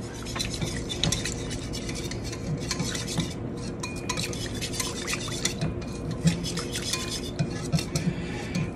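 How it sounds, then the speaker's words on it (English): Flour and orange juice whisked together in a bowl: quick, steady metallic scraping and clinking of a whisk against the dish, fairly faint and close, with no talking. "And then I have a quarter cup of orange juice. And it says to whisk that together until it's smooth."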